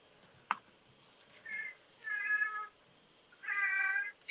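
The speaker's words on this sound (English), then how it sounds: "If you hear a cat meowing, that's Milo." Milo the cat meows three times indoors, close and clear, in short rising calls with quiet pauses between them, after a single sharp click.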